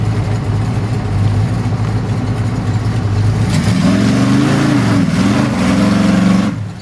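Off-road vehicle engine in a muddy woods trail, revving hard in second gear: a steady loud rumble that climbs into a strained, rising roar midway and holds before dropping off at the end.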